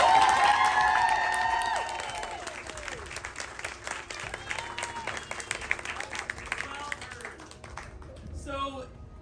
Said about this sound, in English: Everyone give a round of applause for Merman Mikey.